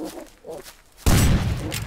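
Gunfire in the video game Rust at a fleeing player: a sudden loud burst of shots cuts in halfway and rolls on as a dense volley, after quieter footstep-like thuds.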